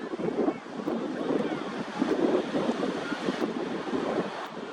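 Small waves wash onto a beach in steady, continuous surf, with wind rumbling across the microphone throughout and no one speaking.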